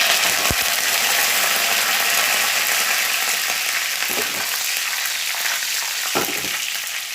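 Dried red chillies, cumin and curry leaves fry in hot oil for a dal tempering, a steady close sizzle with occasional stirring clinks and no talking.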